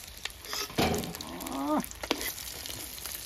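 Pieces of food deep-frying in hot oil until crisp and red, a close steady sizzle and bubbling hiss with a brief burst of louder frying partway through, and no talk.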